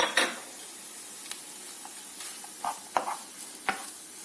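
Peas and fried eggplant stirred in a pan for sultan kebab filling, quiet sizzling under a series of sharp spoon scrapes and taps against the pan, spaced irregularly and fairly close.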